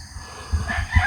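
Chickens at six in the morning give a few short, low clucking bursts, moderately close, against a quiet background.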